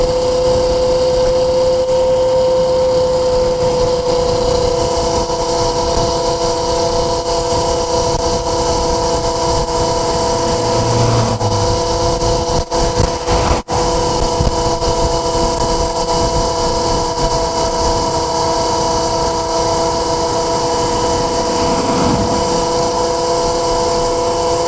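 Voloci electric moped running on a 48V 20Ah battery, a steady loud motor whine with constant tones and wind noise throughout, no talking.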